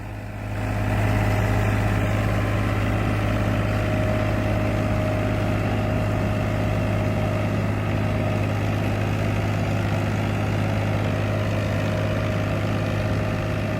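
A Farmtrac tractor engine runs steadily and loudly in a field of red soil, a constant low droning hum with no talk, holding an even pitch from start to finish.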